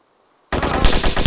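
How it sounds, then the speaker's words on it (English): Rapid automatic gunfire from the ArmA 2 video game erupts abruptly after a moment of silence, loud and close with a burst of repeated shots. "Oh, I got shot in the back."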